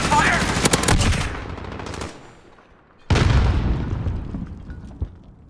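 Shooter-game gunfire comes as two loud bursts of rapid shots with a boom-like tail, and a short gap between them.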